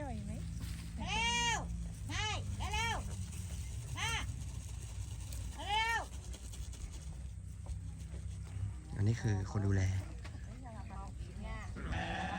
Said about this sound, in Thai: อันนี้แกะกำลังโดนแกะลุมนะครับ